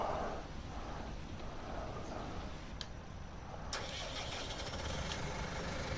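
A tractor engine cranks and fires up in Farming Simulator 19, settling into a steady low idling rumble at moderate loudness, with a few sharp clicks near the start.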